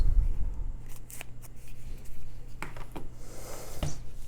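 A knife slices open the cardboard and plastic packaging of a Warhammer 40K Leagues of Votann box, making several short, close scraping and snipping cuts with brief pauses between them and no talk.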